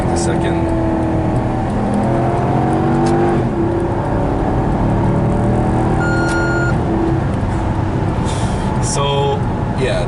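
Maserati GranTurismo S 4.7-litre V8 (2012) revving hard through downshifts from fourth to second, loud and continuous with rising and falling engine tones, someone talking over it throughout.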